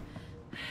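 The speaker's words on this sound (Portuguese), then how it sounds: "Respirando pesado." Heavy, gasping breaths from a character in a Quantum Break cutscene, two short sharp intakes close to the listener over a dim background hum.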